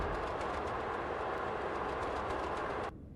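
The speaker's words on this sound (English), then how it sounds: "the sounds of the locomotives and rolling stock are actually really, really good in this game" A Class 37 locomotive and its wagons in a Roblox train game roll along with a steady rushing rumble and faint rhythmic clatter, loud and continuous before stopping suddenly.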